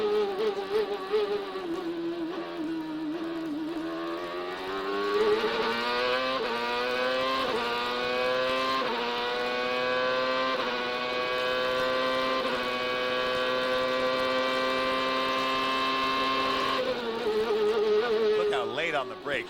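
A CART race car engine screams on an onboard pole-winning lap, a high nasal whine climbing steadily through the revs, briefly nicking the rev limiter in top gear before easing off near the end.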